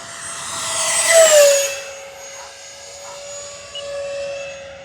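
An E-flite Habu XS 80mm electric ducted-fan jet model airplane makes a high-speed flying pass: a rising whine swells to a peak, sweeps down in pitch as it passes, then fades into a steadier distant hum.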